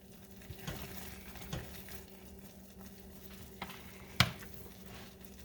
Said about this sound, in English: I'm giving it another stir here.